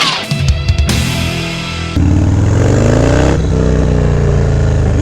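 A Harley-Davidson Dyna motorcycle with no fairing revs loudly up close, a deep rumbling engine that climbs through a blip and then holds a steady, throbbing idle-to-cruise drone.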